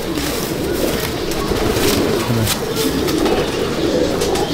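Inside a pigeon loft, a male pigeon is let go among other birds, with cooing and fluttering over a dense, steady hum of the flock, close and loud.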